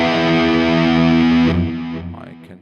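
Electric guitar played through a DS1 distortion model on an Axe FX III, a thick sustained distorted chord ringing out loudly and then decaying into a few fading notes.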